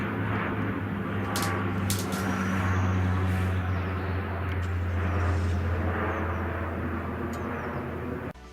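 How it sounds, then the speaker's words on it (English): Airplane flying overhead, a steady loud low engine drone that holds for several seconds with slight swells, heard alone without talk. "It's an airplane."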